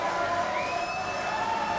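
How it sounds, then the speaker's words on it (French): A studio audience on a French television show cheers and applauds its guests in a steady, fairly distant wash of crowd noise with whoops and whistles, lasting under two seconds. "Applaudissements pour mes invités préférés"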